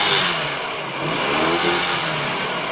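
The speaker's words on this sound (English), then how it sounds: "That rattling noise from the last video" Honda BF75 outboard engine running in gear with a rattle from its recoil starter, a steady close mechanical drone with busy high-pitched clatter over it and no talk.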